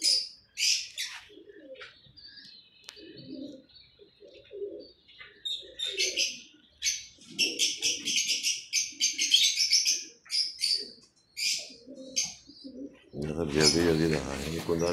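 Pigeons on a rooftop loft coo and chirp in repeated soft bursts, close by, with flapping and rustling near the end.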